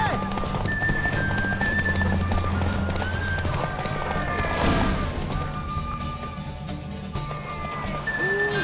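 Horse galloping in a race in the video game The Witcher 3, a continuous rapid drumming of hoofbeats under game music and sound effects, with voices talking over it.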